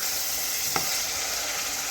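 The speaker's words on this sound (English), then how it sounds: "So guys, I'm gonna let this simmer for a couple minutes." Ackee simmering and sizzling in a pan while ackee and saltfish is being cooked; a steady, close, even hiss of frying runs throughout with one brief pop or clink partway through, and no one speaks.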